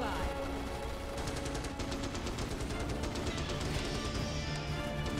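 Heavy machine gun nests fire in the Starship Troopers: Terran Command video game, rapid continuous bursts of gunfire layered over a dense battle din throughout.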